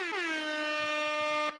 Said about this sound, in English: I like the air horns.